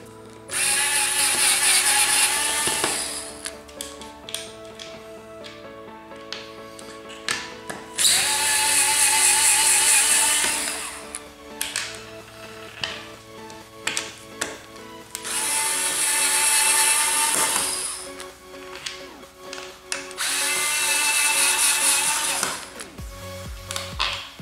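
A power driver backs screws out of a pinball machine's ball trough unit during a playfield swap, in four loud, close whirring bursts of several seconds each, separated by brief pauses.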